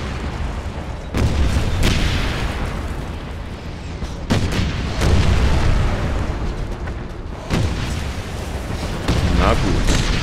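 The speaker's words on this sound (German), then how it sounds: "explodiert alles." Explosions in the shooter game Wolfenstein (2009) boom repeatedly over continuous loud game noise, with several heavy blasts around the middle and near the end, close and dense.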